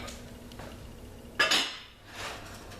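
A lidded jar is set down on a double boiler while making a lotion stick, giving a sharp clatter of glass and metal near the middle followed by a softer scrape, close up over quiet room noise.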